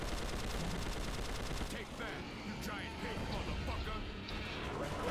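Rapid gunfire from the video game Prototype 2 rattles in dense bursts through the first couple of seconds, then thins into scattered shots and chaotic action noise, with someone talking throughout.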